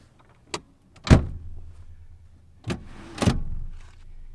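Second-row seat of a 2019 Volkswagen Atlas S 2.0T slid on its rails inside the cabin: two pairs of sharp mechanical clunks and latch thuds, each pair followed by a short sliding rumble, close and with no talking.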